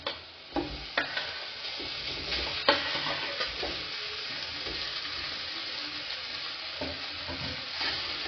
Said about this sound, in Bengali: এবার সেই আলুটা আমি এই কড়াইয়ের মধ্যে দিয়ে দেব।